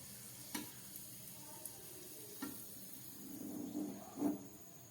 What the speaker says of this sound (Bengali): আমার তেলটা গরম হয়ে গেছে, এবার আমি এর মধ্যে এই পুরিটা দিয়ে দিলাম।